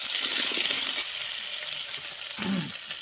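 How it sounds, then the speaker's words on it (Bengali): Potatoes fry in oil in a pan, with steady hissing sizzle throughout as spices go in, and a brief stirring or scraping sound near the end, without talk. "আলুটা ভাজা ভাজা করে এখন আমি মশলাটা দিব"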